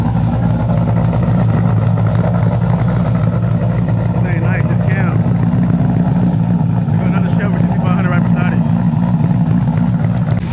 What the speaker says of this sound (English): They got a BMP supercharger on it. And it sounds like it's cam too.